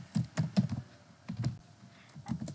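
Someone types on a computer keyboard while writing HTML. Short clusters of close, crisp keystrokes are separated by brief pauses, and nobody speaks.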